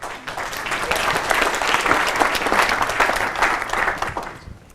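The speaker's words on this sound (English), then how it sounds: "And an applause for Kai." Audience applause for a presenter at an academic conference session, a steady round of clapping from a room of people that swells, holds for a few seconds, then tapers off near the end.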